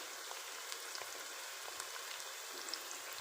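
Onions frying in a pan over a medium flame, a steady soft sizzle with scattered faint crackles and pops, quiet and continuous with no talk.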